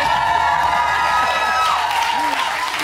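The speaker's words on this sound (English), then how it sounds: "We've never had an applause like this" A large audience applauds and cheers loudly and without a break, dense clapping with whoops and voices rising through it.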